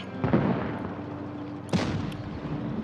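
A tank's main gun fires a shell in a BZ-75 tank game: two sharp, loud booms about 1.5 seconds apart, each with a broad crack and rumbling tail over a steady engine drone.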